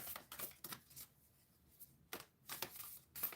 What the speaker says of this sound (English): Now that I'm shuffling, I just got the archetypes deck out.